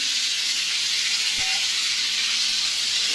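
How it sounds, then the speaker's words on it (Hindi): Vegetables sauté in a pot for macaroni vegetable soup, giving a steady loud hiss and sizzle throughout with no talk. "अभी हल्का सा हम इसे भून लेते हैं"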